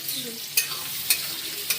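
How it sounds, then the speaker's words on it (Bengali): Quiet, steady sizzle of onions frying in a pan with tomato, chilli and cinnamon for a crab curry, broken by three sharp scraping taps of a spatula at regular intervals. "পেঁয়াজ ভাজা হচ্ছে"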